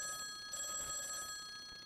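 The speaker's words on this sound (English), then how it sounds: "The phone rings" A telephone rings in a quiet room, a steady electronic ring with a faint pulsing tone, heard alone at low volume.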